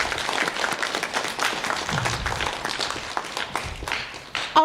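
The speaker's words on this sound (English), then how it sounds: "A round of applause, please." Audience applause at a school grade-level spelling bee, a steady wash of many hands clapping that holds for several seconds and swells briefly near the end.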